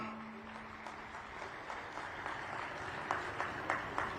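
Applause from an audience at a state-level Shri Guru Gorakh Nath Prakat Utsav welcoming Chief Minister Nayab Singh Saini, a steady dense patter of clapping with a few sharper claps near the end.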